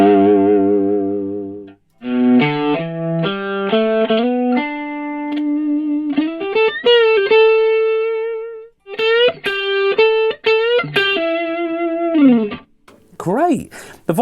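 Electric guitar played through a HeadRush GigBoard effects unit with the reverb switched off, a series of distorted picked notes and bends with chorus-like shimmer, dry and close, pausing briefly between phrases.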